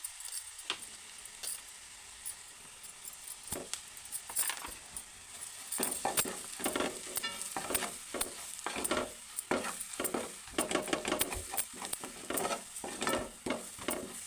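Ground garlic-chili paste frying in a pan for a Telangana egg curry, quiet at first, then loud sizzling and repeated scraping stirs in an uneven rhythm, with metal clinks and no voices.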